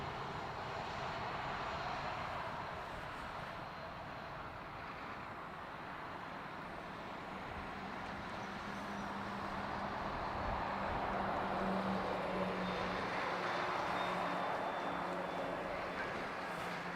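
A Ryanair airliner from Sofia roars steadily at Dublin Airport, a broad continuous engine rumble that swells slightly louder toward the end, heard outdoors with traffic-like background noise.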